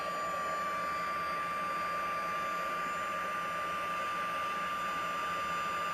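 A handheld heat tool for melting embossing powder on a card runs continuously, giving a steady fan roar with a thin high whine and no pauses.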